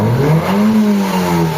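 A car engine, running poorly and struggling to hold temperature, is revved steadily, a loud sustained drone that swells slightly and holds without letting up.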